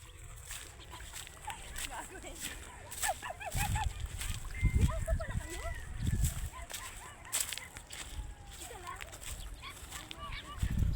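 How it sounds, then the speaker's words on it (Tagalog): Chickens cluck and squawk in a noisy flock, several birds calling at once at moderate distance, with people talking over them. "Ayun oh, dami na sumalubong manok oh."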